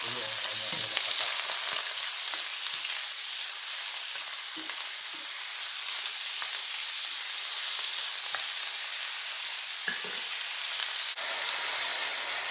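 Pork sizzles in a pan with garlic and onion, a steady, bright frying hiss running throughout, broken by occasional soft knocks and scrapes of stirring; no talking.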